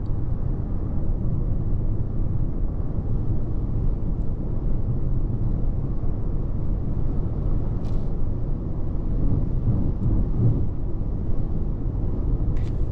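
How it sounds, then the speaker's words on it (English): Inside a Rolls-Royce Spectre electric car cruising on a highway, a steady low rumble of tire and wind noise fills the cabin, even and moderately loud with no talking. "You can, yes, hear a little bit of wind noise making its way in, and a little bit of tire noise"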